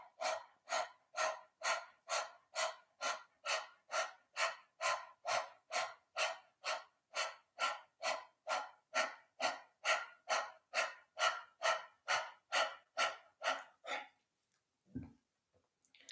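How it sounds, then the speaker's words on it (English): Rapid rhythmic panting through the mouth with tongue out, a yoga breathing exercise: about thirty sharp, evenly spaced breaths, close and clear, then stopping abruptly into quiet with one low thump. "bringing your tongue out and start pumping with your stomach, like panting like a dog"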